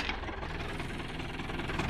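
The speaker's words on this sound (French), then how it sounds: "Oh, le 105. Un tracteur que j'affectionne." A small tractor, a model 105, runs steadily out in farm fields, its engine giving a constant knocking, vibrating idle-like rumble that stays close and loud throughout, no talk.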